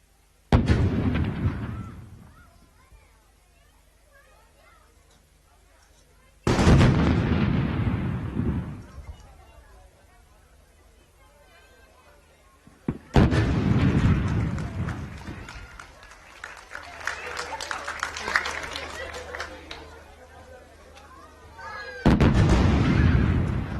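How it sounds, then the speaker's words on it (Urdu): A 21-gun artillery salute to the national flag at the Pakistan Day parade, heavy booming cannon shots spaced several seconds apart, each followed by a long rolling echo across the open parade ground. "قومی علم کو اب 21 توپوں کی سلامی دی جائے گی"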